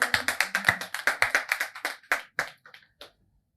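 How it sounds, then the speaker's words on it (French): Handclaps applauding a performer at a show, a brisk, evenly spaced run of sharp claps that slows and thins out before stopping. "Si vous avez aimé, on applaudit encore Mr."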